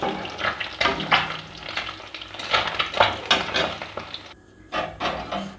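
Fish frying in hot oil in a home kitchen for an Assamese fish curry, with steady sizzling broken by louder spits and utensil clinks as pieces are lifted out.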